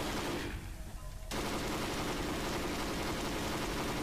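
Rapid, dense gunfire from the Garry's Mod video game forms a loud, continuous rattling roar that drops out briefly near the start and then resumes unbroken.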